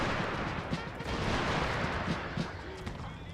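Musket volleys and artillery fire in the Rise of Empires strategy game, France against England, form a dense, distant-sounding crackle and rumble with a few muffled booms, fairly quiet throughout.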